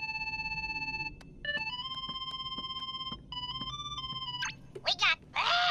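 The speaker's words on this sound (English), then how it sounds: "somebody's calling us on the gummy phone" In Kingdom Hearts 3, the gummy phone ringtone chimes in repeated bright electronic tones in a stepped melody over a faint game background, followed by brief character voices.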